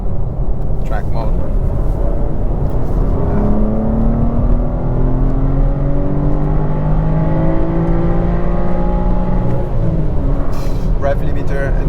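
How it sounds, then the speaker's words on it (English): A 2021 BMW M4 engine revving up toward a soft rev limiter, rising and falling in pitch as it climbs, loud and close from inside the car, with steady road rumble underneath. "You bring it all the way to the rev limiter, it's like butter."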